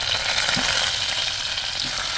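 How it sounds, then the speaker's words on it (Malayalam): Steady, dense sizzling of mustard seeds, garlic and curry leaves frying in hot oil, close and continuous, with a faint stirring scrape. "എണ്ണ ഒഴിച്ച് കടുക് പൊട്ടിയിട്ടുണ്ട്"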